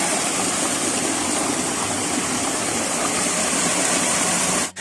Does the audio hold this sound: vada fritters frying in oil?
no